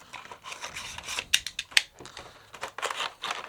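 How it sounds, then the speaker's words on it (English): A blade cutting along the top of a Christmas gift box: close, scratchy rasping and rubbing strokes with a couple of sharp snips, in quick irregular bursts. "You gotta cut it along the top now."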